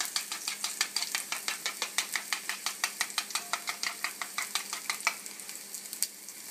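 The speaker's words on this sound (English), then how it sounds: "I'm going to get this to brown up very quickly" Garlic sizzles and browns in a hot pan for a ramen stir fry, with a steady, rhythmic scraping as it is stirred quickly, close and clear with no talk.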